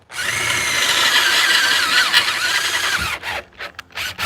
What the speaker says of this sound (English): I'm cutting pretty slow so we don't heat the shit out of that bit.